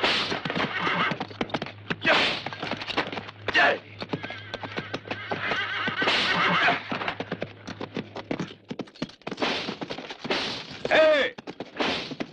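In a western film scene, horses neigh loudly several times and hooves clatter and clop on hard ground, with sharp scuffing bursts and a low hum in the first part.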